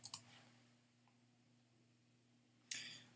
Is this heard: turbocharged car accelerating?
no